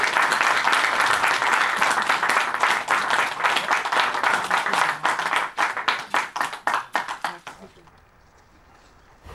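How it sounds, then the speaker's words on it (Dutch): Audience at a Dutch political party event breaking into loud sustained applause and clapping that thins into scattered claps before fading out. "Een groot applaus"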